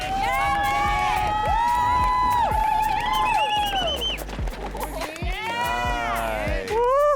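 Spectators at a mountain bike competition cheer loudly and keep cheering as a rider comes through the first stage of the day. The sound is high whoops, whistles and shouts, with people calling out over it.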